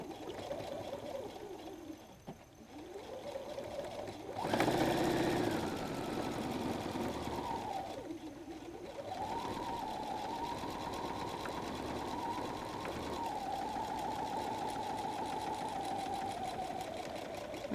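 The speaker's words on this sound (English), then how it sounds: "I'm going to sew with an 1/8 inch stitch line all the way down to the bottom" Close sewing machine running almost continuously while stitching an eighth-inch seam down a messenger bag at 2.5 stitch length, the motor whine dipping and surging briefly as speed changes, no talking.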